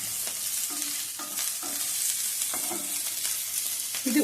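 Green chilies sautéing alone in a pan, a steady close sizzle with intermittent scraping strokes of a stirring spoon, no voices.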